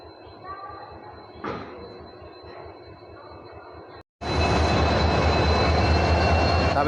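A WDG4 diesel locomotive rumbles near a railway platform, first a moderate idling drone, then after a brief gap a much louder, steady broadband engine roar that holds to the end, with no speech.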